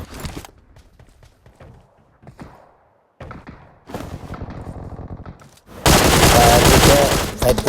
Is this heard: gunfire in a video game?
yes